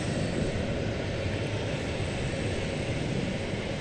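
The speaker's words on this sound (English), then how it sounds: "767 off to Ontario, California. UPS flight 761." A UPS Boeing 767 taking off at night from DFW Airport, a steady, broad engine roar heard from a distance that holds an even level throughout, with no voices.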